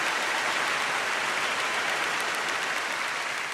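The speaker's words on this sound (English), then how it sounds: "BL fans, let's clap for you guys." Dense, steady applause on a doll-themed livestream, a continuous wash of clapping at even loudness for a few seconds with no pauses.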